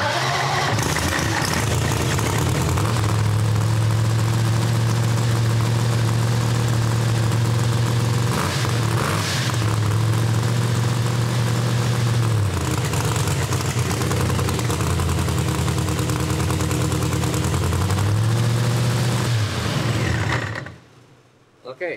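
A Pro Mod Hemi race car engine fires up and settles into a loud, steady, lumpy idle close by, its deep drone running nearly the whole time before cutting off abruptly near the end; voices can be heard.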